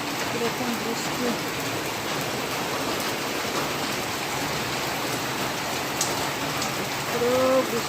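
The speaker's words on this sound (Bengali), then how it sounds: "পুরো বৃষ্টি হচ্ছে রাস্তায়।" Heavy rain pours onto a street outside a main gate, a dense, steady close-up hiss of drops that never lets up, with a faint voice showing briefly near the end.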